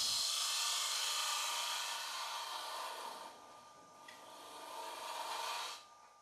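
A TurnMaster lathe cutter shaves a spinning wooden bowl, giving a steady, close, broadband rasping hiss that eases off midway, then builds again before stopping abruptly near the end.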